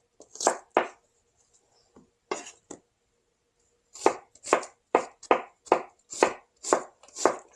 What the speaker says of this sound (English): It helps if the knife actually strikes it, Raymond.